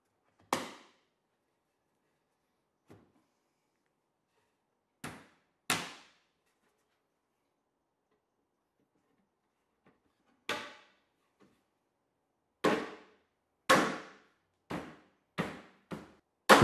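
Tensile connectors snapping together during a shop organization build: about a dozen sharp, isolated wooden clacks and snaps, spaced irregularly with quiet gaps, growing quicker toward the end, no speech.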